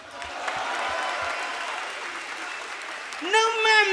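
A crowd at a Mexican freestyle rap battle applauds a freestyler, steady clapping and cheering in a noisy hall, then a voice breaks in loudly near the end.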